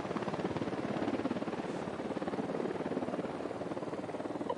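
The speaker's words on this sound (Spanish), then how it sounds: "Un helicóptero, que no los vea." In a tactical stealth shooter game, a helicopter holds a continuous, pulsing rotor drone at steady loudness, close and unbroken from start to end.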